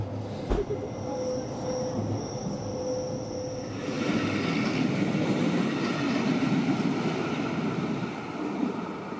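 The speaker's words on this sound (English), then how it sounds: "we set off on the Glacier Express" Glacier Express train rolling through the Alps, a steady broadband rumble of the carriage with a brief tonal hum early on, swelling slightly louder after a few seconds and continuing without a break.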